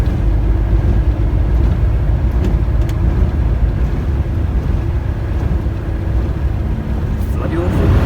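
Volvo FH 540 dual-clutch truck accelerating on the M25 motorway, a steady low engine and road drone heard from inside the cab with strong wind buffeting, while people talk over it.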